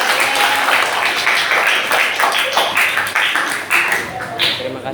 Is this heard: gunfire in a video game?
no